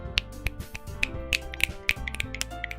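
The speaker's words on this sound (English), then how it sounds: "Snapping is applause." Scattered finger snaps used as applause, a dozen or so crisp, close snaps from several hands at an irregular rhythm, fairly quiet with no talking.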